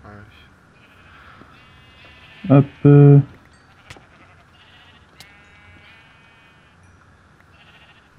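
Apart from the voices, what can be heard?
sheep bleating in a video game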